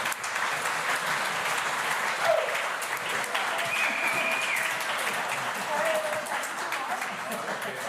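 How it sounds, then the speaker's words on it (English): Conference audience gives sustained, even applause that fills the room for the whole stretch, steady and moderately loud with a few faint whistles or voices mixed in. "warm round of applause"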